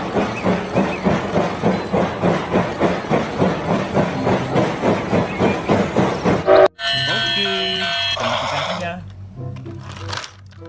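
A toy train switched on and running, giving a fast, regular clacking rhythm for several seconds before cutting off sharply and giving way to a different, brighter mechanical whir that fades toward the end.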